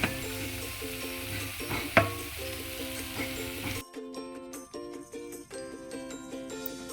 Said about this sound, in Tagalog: Gigisa ko na ang bawang. Nilagay ko na rin ang broccoli at dinagdag ko na rin yung ating cauliflower.